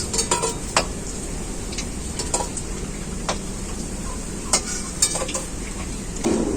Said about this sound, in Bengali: বাকিগুলো আমি একইভাবে ভেজে নেবো